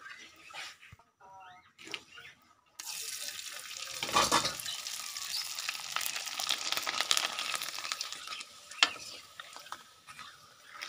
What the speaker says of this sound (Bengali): দেখুন কত সুন্দর পাঁপড়গুলো ফুলে উঠছে।